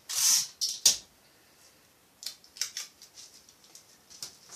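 Scissors snip through fabric to trim away a dress dart, a few loud crisp cuts at the start, a pause, then a quicker run of lighter snips, close and alone without talk.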